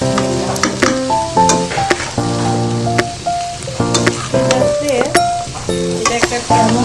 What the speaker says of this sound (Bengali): এখন এর মধ্যে ধুয়ে রাখা সব সবজিগুলো দিয়ে দিচ্ছি। ভালো করে নিচের থেকে একটু নাড়িয়ে দিব।